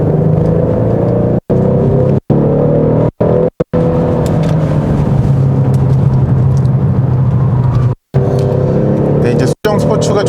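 Genesis G70 3.3T sedan on factory sport suspension driving a test course, heard from inside the cabin: steady low engine and road drone with tire noise, the sound repeatedly cut by brief dropouts.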